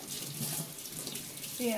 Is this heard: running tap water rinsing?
yes